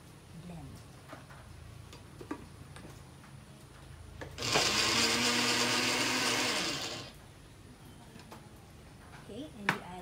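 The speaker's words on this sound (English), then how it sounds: "So just mix everything and blend." Blender whirring loudly for about two and a half seconds as it blends dalandan juice with leftover watermelon, starting and stopping abruptly amid quieter kitchen sounds.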